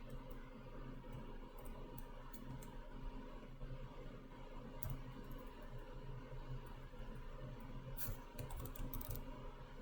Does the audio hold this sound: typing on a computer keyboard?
yes